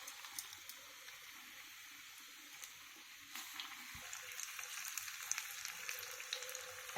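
Capsicum bajji fry in hot oil, producing a soft, continuous sizzle and crackle that stays faint and steady throughout, with no talking.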